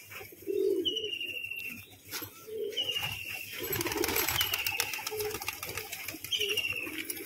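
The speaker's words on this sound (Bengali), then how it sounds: "বাদ বাকি এখানে আপনারা দেখছেন পায়রাগুলো একটু দেখাই।" Biscuit-coloured pigeons coo in soft, low, repeated phrases at close range, with higher chirps and rustling in between.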